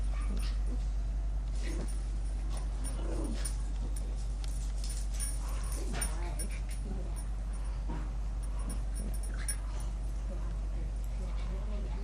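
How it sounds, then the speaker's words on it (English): Dogs playing together in a dog training session for fear and aggression, with scattered yips, whimpers and scuffling over a constant low hum while a person talks. "And Homer really, really likes to play with other dogs."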